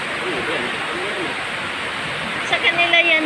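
Strong rainwater rushes along a street with clogged drains, a steady broadband roar of flowing water that continues throughout, with a few brief voices rising faintly near the end.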